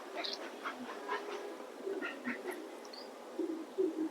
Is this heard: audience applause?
no